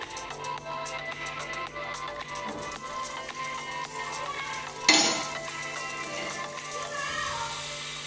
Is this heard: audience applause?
no